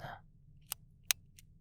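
A pen clicks sharply twice, then once more faintly, each a crisp isolated snap against near silence after a brief voice at the start.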